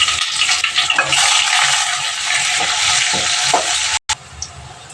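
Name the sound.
onion frying in oil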